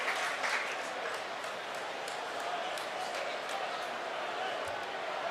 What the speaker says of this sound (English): a huge round of applause from the supporters